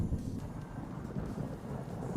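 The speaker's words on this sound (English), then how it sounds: "That thunder is still super loud." Thunder in the Minecraft modpack Super Symmetry, a low continuous rumble with rain-like hiss, steady and fairly quiet throughout the short stretch.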